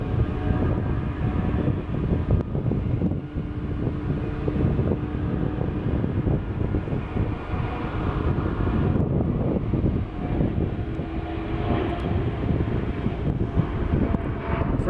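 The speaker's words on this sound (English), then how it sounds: "here goes the ERJ 175 or the CRJ 700 to LA" A regional jet, either an Embraer ERJ 175 or a Bombardier CRJ 700, departs for Los Angeles from Portland airport on a summer morning, giving a steady distant engine roar with wind noise throughout and no talking.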